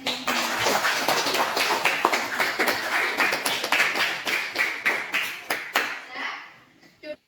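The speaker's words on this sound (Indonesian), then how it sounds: "Tepuk tangan buat Mas." Classroom applause for a student, many hands clapping together in a dense burst that becomes rhythmic patterned claps before tapering off, with children's voices mixed in.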